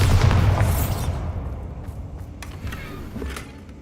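In Hogwarts Legacy, a Bombarda spell goes off as a loud, close explosive boom that hits at once and then rumbles and fades away over a few seconds, with no talking.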